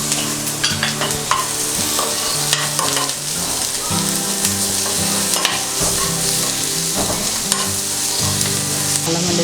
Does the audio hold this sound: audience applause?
no